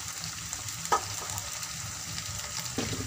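Steady sizzling and frying of tomatoes, garlic and ginger in a hot kadhai, with a couple of sharper clatters of ingredients being stirred in.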